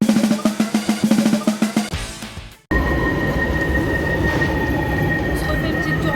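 A Barcelona metro train runs underground, opening with a rapid rhythmic clatter of wheels over rail joints, then a brief drop before a loud, steady roar with a thin sustained tone.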